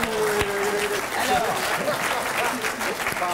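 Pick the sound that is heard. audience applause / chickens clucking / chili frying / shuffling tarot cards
audience applause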